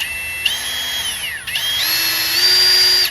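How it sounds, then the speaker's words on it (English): A handheld power drill spins a bent aluminum pipe as a homemade mixer, stirring paint: a steady high motor whine that dips and stalls briefly near the middle, then revs back up louder and holds to the end. "I didn't have a mixer, so I made my own mixer. So here's my regular drill"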